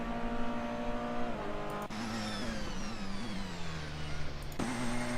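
A Porsche race car in Assetto Corsa sweeping past at speed, its engine note whining high and sliding steadily in pitch, with a sharp gear-change break midway and another shift near the end, loud and continuous.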